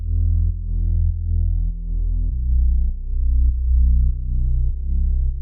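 A deep, buzzy Reese bass synth without fine tuning plays sustained notes in a repeating pattern, steady and static with little movement, loud and alone.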